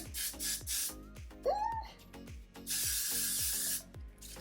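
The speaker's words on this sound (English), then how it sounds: "I'm just gonna spray it in place" Several bursts of Got2b aerosol hairspray hissing close by while setting a U-part wig, short sprays then a longer one, with a rhythmic background beat and a brief squeaky sound between.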